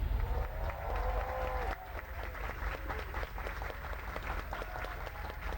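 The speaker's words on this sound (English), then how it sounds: "but they are cheering" A video game crowd cheers and applauds steadily and loudly throughout, a dense continuous roar with clapping texture and brief whistle-like tones.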